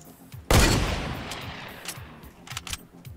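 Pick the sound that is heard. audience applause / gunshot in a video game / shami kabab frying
gunshot in a video game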